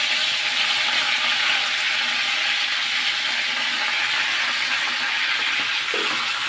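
Curry leaves sizzling in hot oil in a heated kadhai while misal pav is prepared, a loud steady crackling hiss with no pauses and no voice over it.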